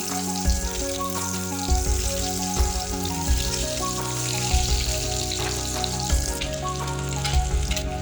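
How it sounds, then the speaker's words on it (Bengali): Eggs frying in hot oil seasoned with salt and turmeric, for a spicy egg and potato curry: a loud, continuous sizzle with crackling bursts, accompanied by sustained tonal background music. "এই তেলে ডিমগুলো ভেজে নেব।"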